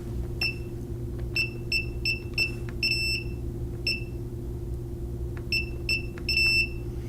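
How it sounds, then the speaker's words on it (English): Repeated short electronic beeps from a smoke detector being paired with a security system chirp in quick clusters over a steady low hum, loud and close. "as you heard the beep, it's learned in the system"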